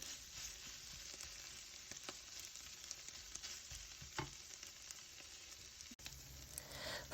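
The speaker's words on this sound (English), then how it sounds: "I honestly can't believe I've been cooking onions for this long." Onions cooking slowly toward caramelisation in a pan give off a continuous gentle sizzle with occasional soft stirring clicks, close and even, with no talking.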